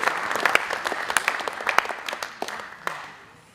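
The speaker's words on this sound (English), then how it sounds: "Let's give them another round of applause." An audience at a Samoan youth crusade night applauds a performing group, crisp dense clapping from many hands that tapers off over a few seconds.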